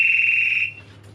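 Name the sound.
crew member's personal distress alarm on ship MV Karissa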